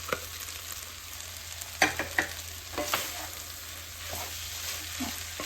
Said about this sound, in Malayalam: ഇനി നമുക്കിതിൽ റൈസ് ഇട്ടിട്ട് ഇളക്കാം നന്നായിട്ട്.